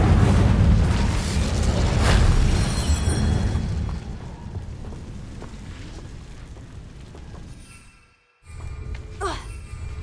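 A fire spell, Incendio, erupts in the wizarding game Hogwarts Legacy with a loud, roaring whoosh and rumble that slowly fades into a crackling tail, drops briefly to silence, then flickers back faintly.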